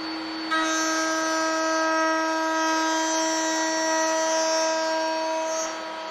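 A router mounted in a table whines at a steady high pitch as cherry boards are fed over the bit to cut quarter-inch grooves, starting abruptly and running unbroken for several seconds before spinning down, close and loud.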